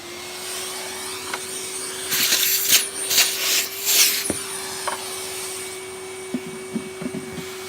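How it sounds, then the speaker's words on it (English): A Hoover Turbopower Junior U1100 vacuum cleaner has its bumper pried off over a steady low hum, with rubbing, scraping plastic noises and a few sharp clicks close by. "Let's remove the bumper."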